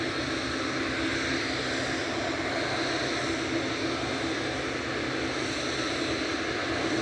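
An airliner landing at Manchester Airport gives off a steady, broad roar of jet engines that holds level throughout, with no talking.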